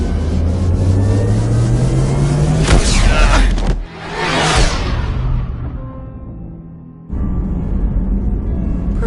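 Starship drive from the Mass Effect 2 video game spooling up, a loud rising engine whine with whooshing surges, a sharp cut, then a sustained deep roaring hum that drops out briefly before resuming.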